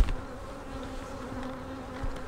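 Honey bees buzz in a steady, dense drone around an open beehive during hive splitting, close and continuous with slight swells in loudness.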